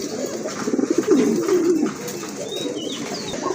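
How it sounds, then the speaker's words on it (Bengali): Lahori pigeons cooing in a loft, a close, steady run of low throaty coos rising and falling over a couple of seconds, then softer murmuring with faint chirps in the background. "এটাও হচ্ছে আপনার লাহোরি কবুতর"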